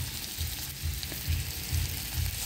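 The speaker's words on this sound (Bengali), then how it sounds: "সামান্য পেঁয়াজ কুচি, তেজপাতা দিয়ে ভালো করে ভেজে নেব" Chopped onion and bay leaf frying in oil in a pan, a close, steady sizzle broken by regular low thumping stirs of a spoon about every half second.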